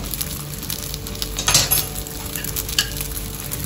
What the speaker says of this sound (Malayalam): ജസ്റ്റ് ഒന്ന് മറിച്ചിടണം. ഒന്ന് പ്രസ് ചെയ്ത് കൊടുത്ത് ചുട്ടെടുക്കണം.